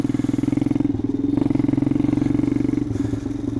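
A pit bike engine runs while riding, a loud, close, rapidly pulsing low buzz that holds steady with small dips in throttle throughout.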